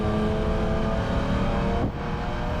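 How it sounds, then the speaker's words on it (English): BMW E46 M3 race car with an S54 engine racing on a circuit, a loud, sustained high-revving howl close by that drops sharply as it lifts or shifts near the end. "I think that's at U46 M3 with S54."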